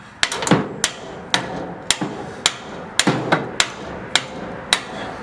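Hammer pounding an axle through a Bren gun carrier road wheel: about a dozen sharp metallic strikes at an uneven, fairly quick pace, close and loud with brief ringing after each blow, no voices.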